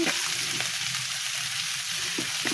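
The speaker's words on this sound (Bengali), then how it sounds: "আমি আলুটা একটু ভাজা করে নিলাম" Potatoes fry in a pan with a steady, bright hissing sizzle and a few soft stirring scrapes, close and continuous with no one speaking.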